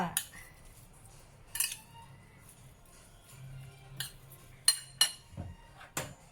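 Minced pork for northern-style larb is stir-fried in a pan, with scattered metallic clinks and scrapes of a utensil against the pan over a low sizzle, some strikes sharp and close.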